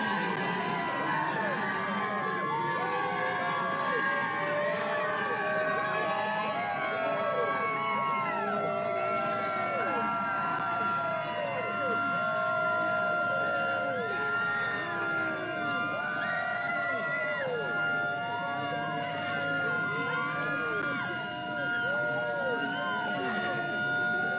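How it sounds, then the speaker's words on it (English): A siren wails continuously at the Dawsonville pool room over a loud, cheering crowd of racing fans celebrating a NASCAR result, with voices shouting and clamoring throughout. "the siren goes off at the Dawsonville pool room."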